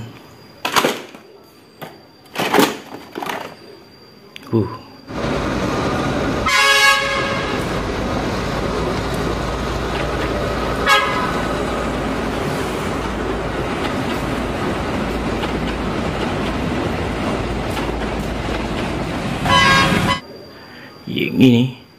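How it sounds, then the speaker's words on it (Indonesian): A toy Thomas the Tank Engine train rolls along with a steady mechanical whir, broken by a few sharp toots of its whistle, with voices at the start and end. "yang ini kereta api Thomas"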